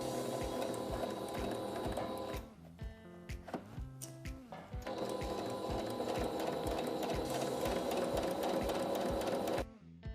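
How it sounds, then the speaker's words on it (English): A sewing machine runs steadily, stitching the final narrow baby hem of a shirred dress, its needle mechanism chattering in a fast regular rhythm that pauses briefly near the middle, then resumes at full speed before stopping near the end. "So now we're putting in that final stitch for the baby hem."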